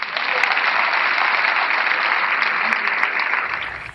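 A theatre audience applauds after a play, a dense, loud and steady roar of clapping filling the whole stretch before it cuts off.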